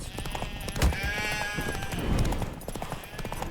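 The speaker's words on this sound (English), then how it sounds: "Spooking my horse. Roach doesn't like ghosts." A horse spooked by ghosts in The Witcher 3: Wild Hunt, Hearts of Stone, giving a shrill, wavering whinny followed by snorting and shuffling, close and fairly loud over an ambient game backdrop.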